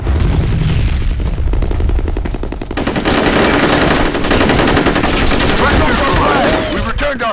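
Dense, loud automatic gunfire rattles continuously in F.E.A.R. multiplayer combat, with a heavy grenade blast and booming impacts mixed into the rapid bursts.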